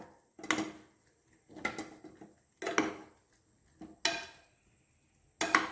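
Cauliflower being stirred with turmeric and salt in a pan, five separate scraping clatters of a utensil against metal, each a short burst fading out, with quiet gaps between them and no voices.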